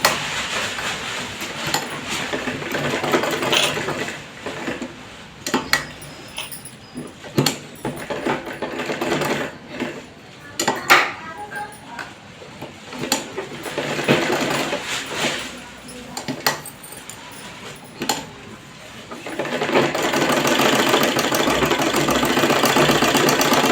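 Domestic sewing machine stitching around the neckline of a simple straight kurti, its motor whirring in uneven bursts with short stops and starts, then running steadily and loudly near the end.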